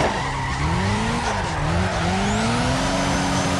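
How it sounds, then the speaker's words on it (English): Loud, continuous tire squeal from a handbrake drift in the Car X Drift Racing video game, rubber screeching over a revving engine whose pitch dips and climbs, with no talking. "Drop it down a gear and let these tires rip this outside run!"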